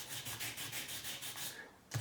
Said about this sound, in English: So I'm going to give it a little sanding with 400 grit dry.